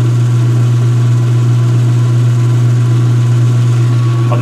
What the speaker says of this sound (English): There's the transmission going, and the motor and the belt too.